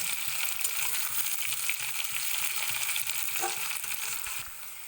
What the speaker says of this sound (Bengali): তো এবার এটাকে আমি ভালো করে আলুর সঙ্গে সুন্দর করে ভেজে নিচ্ছি। আর মিক্স করে নিচ্ছি।